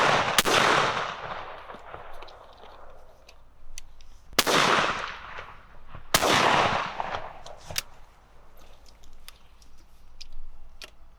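An English shotgun with single and choke barrels fires steel shot outdoors: three sharp, loud blasts, each with a decaying tail, plus a few faint clicks between them.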